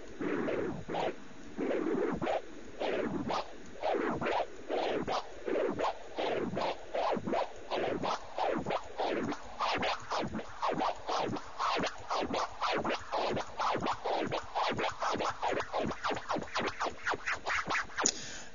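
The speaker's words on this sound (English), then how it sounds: "what you're doing with the fader is you're putting gaps in the sound, which in scratching terms they call clicks" Rapid DJ record scratching with one-click flares, the crossfader cutting gaps into each back-and-forth stroke, giving a dense stuttering run of short chirps that continues steadily and close up with no voices.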